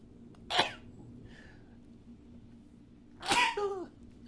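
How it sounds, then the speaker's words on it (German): Two sharp sneezes from a person, one near the start and a louder one about three seconds later, each a sudden burst with a short tail, in an otherwise quiet room. "Niesen."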